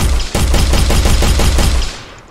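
A loud, close burst of rapid gunfire from a player weapon in an Unreal Engine game, with quick repeated shots running for about two seconds and then stopping, and no talking.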